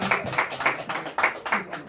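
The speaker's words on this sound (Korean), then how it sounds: "우리 김찬열 집사님 박수 한번 합시다" A church congregation applauds for a deacon with fairly faint, rhythmic clapping in an even, regular beat, each clap distinct, with a voice faintly underneath.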